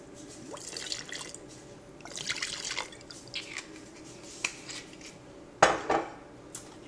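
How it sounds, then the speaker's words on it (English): Splashes of bourbon go into peaches being canned in homemade syrup, heard as a scatter of small drips, splashes and light clinks of glass and utensils, fairly quiet and close. "A couple of splashes of bourbon."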